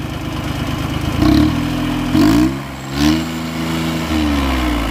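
A VST Mitsubishi Shakti tractor engine runs steadily nearby at about 2400 rpm with a throbbing low drone, swelling louder in a few brief revs before settling back.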